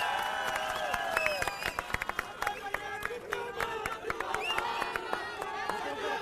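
A rally crowd gathered to welcome Sanjay Singh claps and cheers in a dense, continuous wash of applause, with scattered shouts and chatter and voices over a loudspeaker.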